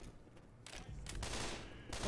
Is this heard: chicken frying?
no